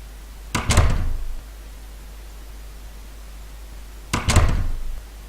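A door closes twice in The Dark Mod video game, each a short muffled thunk with a brief rattling tail, separated by several seconds of steady low hiss.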